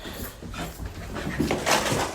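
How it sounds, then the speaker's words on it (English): A dog pants in quick uneven breaths mixed with soft whimpers and whines, close and fairly loud, on a road trip. "Come on, ugly dog."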